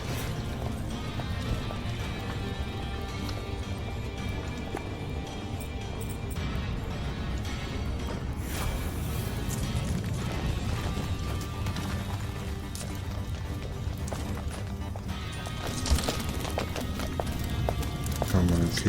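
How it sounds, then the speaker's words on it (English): Hooves of a dwarf riding a goat in the video game Dungeons 4: a steady, dense clatter of galloping hoofbeats under busy game music and battle noise, with occasional louder impacts and someone talking over it. "This is the dwarf riding goat."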